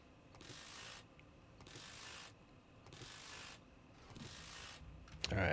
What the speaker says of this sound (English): Just gonna wrench this just so I can actually get access into here.